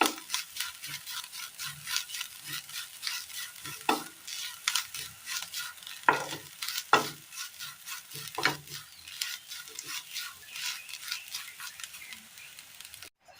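Curry leaves being stirred in a hot frying pan, with a steady sizzle under repeated scraping and clinking strokes of a spoon against the pan, close and fairly loud with no voices.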